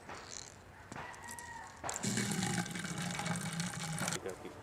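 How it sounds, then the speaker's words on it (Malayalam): Water pours steadily into a one-litre bottle for a couple of seconds, a close splashing fill that stops abruptly, with faint background noise before it. "ഇനി നമുക്ക് ഒരു ലിറ്റർ വെള്ളം ഇത് ഒരു ലിറ്ററിൻ്റെ കപ്പാസിറ്റി ഉള്ള കുപ്പിയാണ്"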